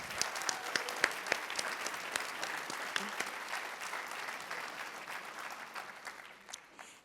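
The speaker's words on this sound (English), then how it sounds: "Let's give them another round of applause." A crowd at a senior honors night applauds steadily for several seconds, dense clapping that slowly thins toward the end.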